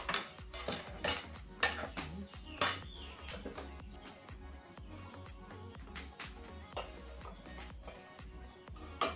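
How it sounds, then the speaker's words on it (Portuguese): A cooking pot handled on a home kitchen stove while beans and meat cook, with repeated metallic clanks and clinks of cookware in irregular bursts, moderately close. "Depois eu coloco a panela de volta aqui."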